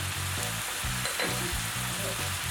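Red chili powder hits hot oil in a pan for a Bengali fish curry (macher jhol), giving a steady close sizzle with soft stirring and scraping bumps, no talk.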